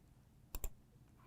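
A pair of quick, close clicks from a computer mouse, sharp and separate, against a quiet room background.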